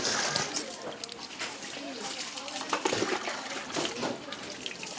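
Water runs and splashes in a steady, fairly soft wash with scattered splatters and sloshes, while people talk over it throughout.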